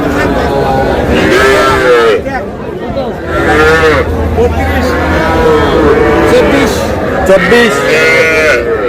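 A young Sahiwal heifer calf, about five months old, moos several times in drawn-out calls, close by, with people talking around it.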